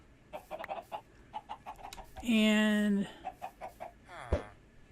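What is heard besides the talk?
captured chickens clucking in a video game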